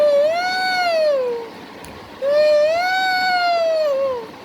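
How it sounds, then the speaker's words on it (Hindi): Two long, loud, wailing peacock calls ring out one after another with a short gap between them, each a rising then falling harmonic cry, clear and close with no talk over them. "मोर बोलता है"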